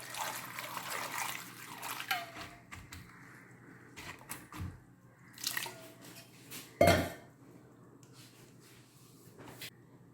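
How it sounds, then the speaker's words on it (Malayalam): Water poured into a cooking pot in a home kitchen as a pulse dish is prepared, a soft, steady splashing pour with a few light clinks of cookware, fairly quiet and without talk. "നമുക്ക് കുറച്ച് വെള്ളം ഒഴിച്ചു കൊടുക്കാം."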